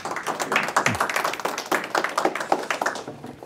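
A small audience at a Naim Audio New Classic 200 demonstration event welcomes a speaker with brisk, fairly close clapping, a quick uneven patter of many hands that thins out toward the end.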